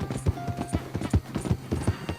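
Horse hooves clip-clopping in Red Dead Redemption 2 as a rider crosses a bridge, a steady close rhythm of hollow, even hoofbeats at a walking pace.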